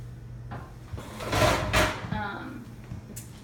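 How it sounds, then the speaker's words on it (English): The bottom drawer of a kitchen oven is pulled out, giving a scraping slide with a couple of bumps and a knock near the middle, then quieter rattles. A low hum sits underneath throughout. "pull out the bottom drawer and vacuum it out"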